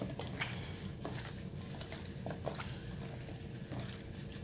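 Seasoning is mixed by hand into raw jerk chicken wings in a bowl, giving soft, wet squishing and stirring sounds with occasional clicks, close and quiet, no talking.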